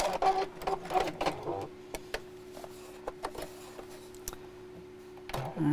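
A sewing machine stitches a bag seam in short bursts of rapid mechanical ticking, close and distinct, separated by pauses with isolated clicks, and a brief voice at the start and end.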